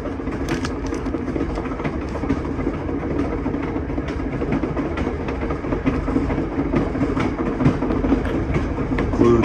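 VIA Rail train 693 on the Hudson Bay Railway, bound for the far northern town of Churchill, Manitoba, heard from on board as a steady, loud rolling rumble with faint rail clicks throughout.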